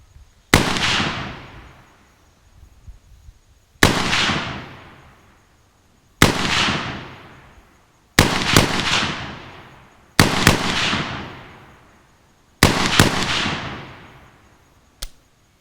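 Six loud, sharp gunshots from an Ohio Ordnance 1918A3 BAR rifle, evenly spaced about two seconds apart, each with a decaying echo, followed by a faint final click-like report.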